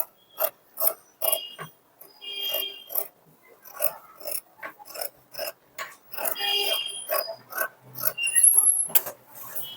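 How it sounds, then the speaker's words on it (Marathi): Scissors snip through blouse fabric while cutting down a neckline, producing a long run of quick, close, crisp cutting clicks in an uneven rhythm, with no talking over them. "हा जो गळा आहे तो इथं कट करून घ्यायचा आहे"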